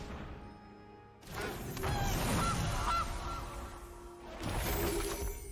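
Goose honk sound effect from the MTG Arena card game: a couple of loud, brassy honks over a bright crash and clatter of game effects, then a second burst of effects at the end.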